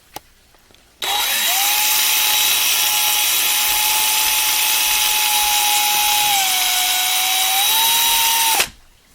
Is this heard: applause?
no